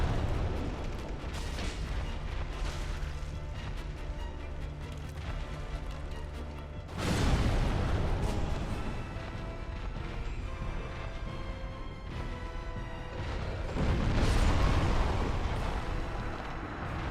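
Explosions in the video game Dark Souls, a dense roaring wall of blasts with two sharp, louder booms about midway and near the end, heavy low rumble throughout, no speech.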